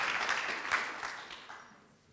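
Clapping from an audience at a Jugend hackt youth hackathon event in Munich, dense at first and then thinning and fading out over about two seconds.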